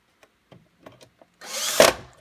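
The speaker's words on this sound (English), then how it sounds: "So now we just need to put the screws back in." A handheld power driver runs screws back into a Zebra ZP 450 label printer: several faint clicks and taps, then a short, close whirring burst of the driver that cuts off abruptly.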